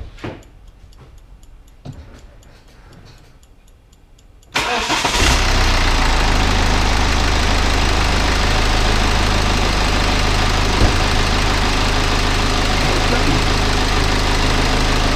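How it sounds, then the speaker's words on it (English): After a few faint clicks and taps, a BMW 320d diesel cranks and catches abruptly, then settles into a loud, steady, slightly knocking idle close by during an oil change, with no voices. "get the car started"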